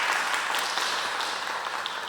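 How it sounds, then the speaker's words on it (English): Applause in an online meeting: a continuous wash of clapping, moderately loud and even, lasting about two seconds without a voice over it. "Let's give him a round of applause too."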